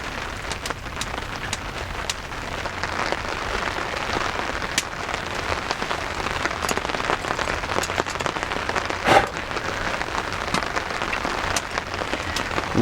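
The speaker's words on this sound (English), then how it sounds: "sitting under a tarp with drizzling rain and a fire crackling in behind" Drizzling rain patters steadily on a tarp in the Canadian bush, a soft continuous hiss with scattered drops, while a campfire crackles faintly in the background.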